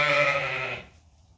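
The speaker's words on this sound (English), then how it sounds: "these little white sheep, they're vigorous" Dorset lambs on a sheep farm give one loud, close bleat that quickly fades into quiet.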